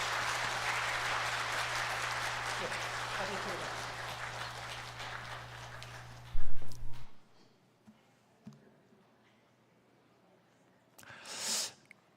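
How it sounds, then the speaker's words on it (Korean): A church congregation at a Sunday worship service applauds warmly for about seven seconds, steady and full, then fades into near silence broken by a few soft thumps and a brief rustle. "우리 따뜻한 박수로 축하하도록 하겠습니다."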